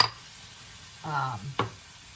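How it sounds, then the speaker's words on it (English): Soft sizzling of oil and stirring in a frying pan with vegetable spirals and steak, with a couple of brief scraping bursts against low background hum. "the oil and let it kind of sizzle in the pan for a few minutes"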